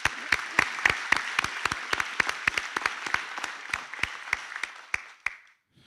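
Graduation ceremony crowd clapping for graduates, a steady run of sharp, distinct claps with a few hands near the microphone, lasting about five seconds before stopping abruptly.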